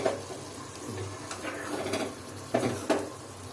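Egg curry being stirred in a pan, with a spoon scraping and clinking against the metal in irregular strokes and a couple of sharper knocks, close and moderately loud over a low kitchen hum.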